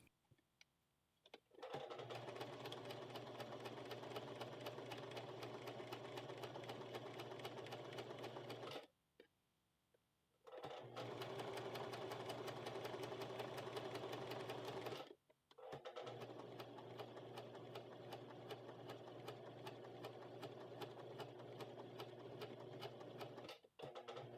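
A sewing machine runs loud and steady as it top stitches a shirt collar on a western blouse, with three sustained runs of stitching broken by two short pauses.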